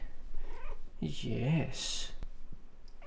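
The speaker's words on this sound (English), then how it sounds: "He's such a lovely cat." A pet cat purrs and gives a short, wavering meow close to the microphone in a quiet room, while a person speaks briefly nearby.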